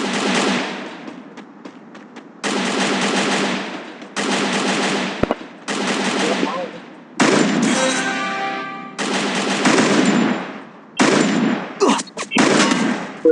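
Bursts of gunfire, loud and close, come in several long rapid volleys of shots broken by short pauses, with a stretch of crackling, firework-like pops partway through.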